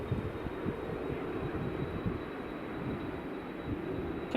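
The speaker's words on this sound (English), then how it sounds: "EasyJet Holidays is taxiing along, as is the British Airways that's just lining up." EasyJet and British Airways jets taxi at Edinburgh Airport, heard as a continuous low engine rumble, fairly distant, mixed with wind buffeting the microphone and no voices.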